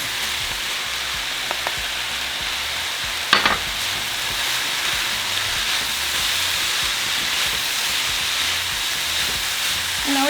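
Beef picadillo with freshly added tomatoes for enchilada filling sizzles steadily in a pan, a constant bright frying hiss with a few brief clinks of a spoon against the pan.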